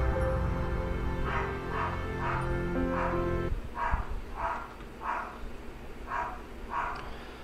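A dog barks and yips in a short run of several quick, evenly spaced barks, close and clear, following a steady musical or background bed that cuts off partway through.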